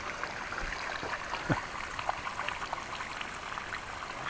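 Small waterfall water feature in a residential street, giving a continuous soft rushing and splashing of falling water, steady and moderately close, with no talking.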